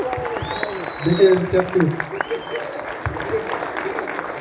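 An audience claps at the premiere of a new Kyrgyz film, a moderate, steady patter of applause heard under someone speaking and brief cheering from the crowd.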